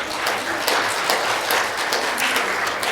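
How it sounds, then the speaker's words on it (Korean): A church congregation at a Sunday worship service claps in welcome, producing brisk, close, continuous applause with sharp individual claps. "박수로 환영하겠습니다."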